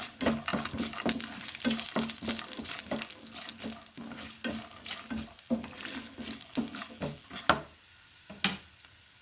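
Cashews fry in oil in a pan for atukula (poha) upma, with a steady sizzle under repeated, rhythmic scraping stirs that thin out toward the end, close by and fairly soft.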